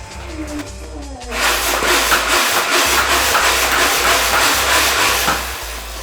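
A Zombie Strike Rev Reaper toy blaster starts up after a short quiet lead-in, then keeps up a loud, steady mechanical whirring and hissing with a rapid pulsing flutter for several seconds.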